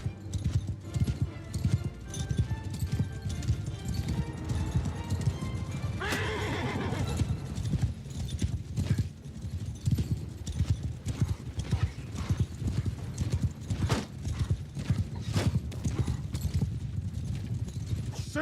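Hooves of a mounted Norscan warband clip-clop steadily in a video game, with a whinny near the six-second mark, as a dense herd keeps trotting without pause.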